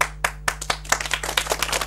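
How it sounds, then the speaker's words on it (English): A group in a classroom clapping hands, a few separate claps at first and then quicker, uneven bursts, close and bright, with no talk. "Okay, now clap."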